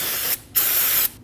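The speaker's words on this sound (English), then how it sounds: "Using some brake parts cleaner and a clean rag, we're going to spray our rag." Brake parts cleaner sprayed from an aerosol can onto a clean rag during a rear brake job on a Mazda 3, two loud, close hissing bursts separated by a short gap.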